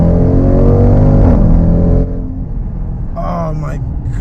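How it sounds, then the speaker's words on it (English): Supercharged Jeep Trackhawk SUV under full throttle, a loud close engine roar with a high supercharger whine that drops off after two seconds, followed by a quieter hum and a brief rising whistle near the end. "You hear this, the supercharger just whining."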